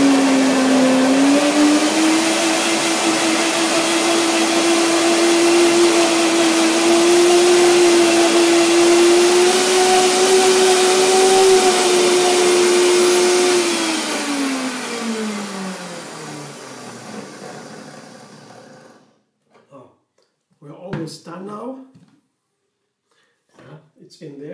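A blender runs loud and steady, mixing locust bean gum thickener into fruit juice for a raw vegan fruit salad tartlet, its motor pitch rising slightly before winding down and stopping, followed by a few brief clatters.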